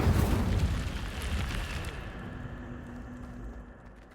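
An Incendio fire spell cast in the video game Hogwarts Legacy: a loud, rushing blast of flame that roars broadly for about two seconds, then thins into a lower, fading rumble.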